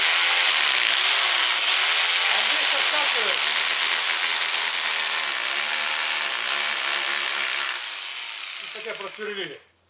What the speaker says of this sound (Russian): Немножко дрель наклонили, чтобы она вверх была. Чтобы не соскакивала с кирпича.